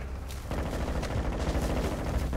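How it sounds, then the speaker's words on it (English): Continuous rapid gunfire in Call of Duty Warzone 2.0 DMZ, a dense, loud rattle of shots that kicks in after a brief quieter moment and keeps going close by. "Who's shooting, bro?"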